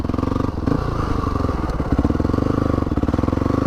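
A Honda CRF dirt bike rides off-road in first gear on a forest track, its steady close engine drone rumbling with rapid firing pulses and a few small clatters, with no talking.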